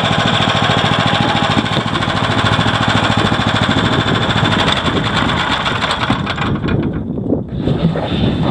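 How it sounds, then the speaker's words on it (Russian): A REGULMOTO motorized snow tow engine runs loud and close with a dense, rattling drone, then cuts out abruptly near the end after being tipped onto its side, leaving a sudden drop to quieter residual noise. "если, допустим, ваш мотобуксировщик накренился и лег на бок, то он автоматически выключается"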